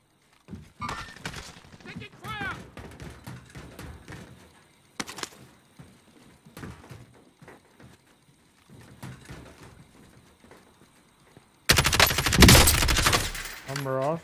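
Enemy gunfire in a shooter video game, scattered shots and short bursts spread between player voices, ending in a loud, dense volley of rapid fire.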